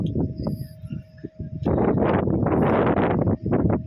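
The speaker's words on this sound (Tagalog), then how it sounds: "Mahangin na. Baka naririnig nyo" Gusty wind at sea off Libya buffets the microphone in a loud, continuous rumble that surges and swells, with quieter rustling before the strongest gusts arrive.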